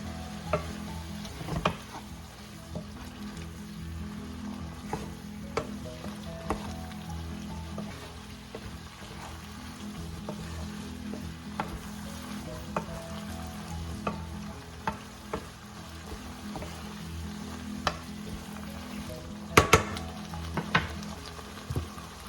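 Vegetables for Filipino chop suey sauté in a pan with a few teaspoons of soy sauce, giving a steady sizzle under repeated spatula scrapes and clinks, close and moderately loud with no talking.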